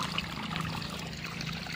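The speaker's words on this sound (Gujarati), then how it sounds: "આપણે અહીંયા પાણી પણ ચાલુ કરી દીધું ગુલાબમાં, જો પાણી ચાલુ છે" Irrigation water running steadily into a rose bed basin on a farm, a continuous close trickling and pouring sound with no breaks.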